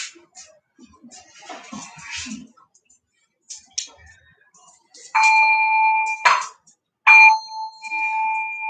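A meditation bell rings twice during a home service, each strike a bright, steady, pure tone held for about a second, following some soft shuffling and handling noises.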